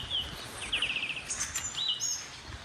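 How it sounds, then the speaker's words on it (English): Birds chirp and trill in short bursts over a soft outdoor hiss, several calls overlapping at moderate distance. "listen to the birds."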